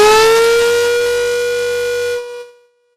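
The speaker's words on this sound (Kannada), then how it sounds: "32 ಕಡೆಗಳಲ್ಲಿ ಸೈರನ್ ಸದ್ದು ಕೇಳಿಸ್ತಾ ಇದೆ." A civil defense siren sounds loud and steady during a mock air-raid drill, its rising harmonic wail holding for about two seconds before cutting off and fading away.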